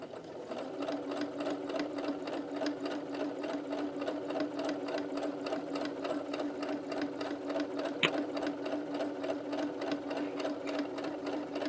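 A sewing machine runs steadily through fabric in a continuous, even whir of rapid stitching, moderately loud and close, with one brief click partway through and no talking.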